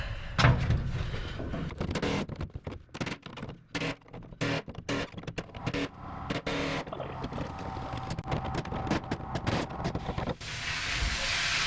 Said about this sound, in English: The chisel will probably take it off.